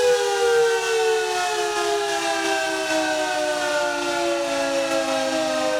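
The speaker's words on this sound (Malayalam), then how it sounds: "നഗരസഭയുടെ സൈറൺ മുഴങ്ങിയതോടെ" A municipal siren in Piravom marks the end of an election campaign with a loud, sustained wail whose pitch sinks slowly over several seconds.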